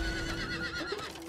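A horse in Diablo IV whinnies with a wavering, stretched call, alone and fairly close, with a faint clip-clop texture beneath it.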